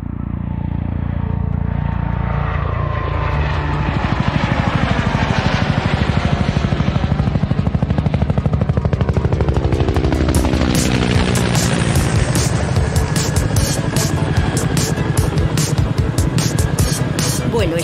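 A military helicopter of the Spanish Air Force hovers close by, its loud, continuous rotor thump and turbine roar swelling and filling the air throughout.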